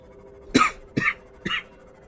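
Three harsh coughs from one person at a computer during a Subnautica gaming session, close to the microphone and evenly spaced about half a second apart, with faint background hum and no talking.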